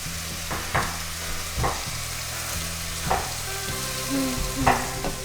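Ground venison sizzles steadily in a hot pan for chili while a tool repeatedly smashes and breaks up the meat, giving a continuous close frying hiss punctuated by periodic scraping thumps.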